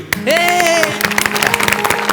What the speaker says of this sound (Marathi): मुलांनो, टाळ्या वाजवा